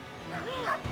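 A frightened dog barks and yips in short, whining bursts while running around a yard, close and mid-loud, with a voice speaking over it.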